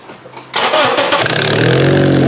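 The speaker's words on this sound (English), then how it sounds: "go ahead and fire it up there, Josh" A Honda CR-V with no power and brake warning lights cranks and catches, its engine roaring up loudly and settling into a steady close idle after a brief quiet start.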